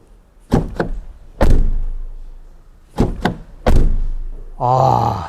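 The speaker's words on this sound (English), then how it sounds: "Let's take a moment and listen to the sound of the door." A 2025 Mercedes V-Class van door is shut twice, each time with quick latch clicks followed by a heavy, solid thud, then a short vocal groan at the end.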